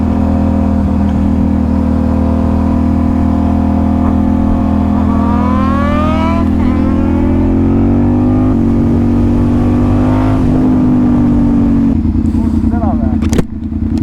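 A car engine revs hard toward redline during an Estonian summer drive, a loud, steady roar climbing in pitch over several seconds before dropping back, with people talking over it.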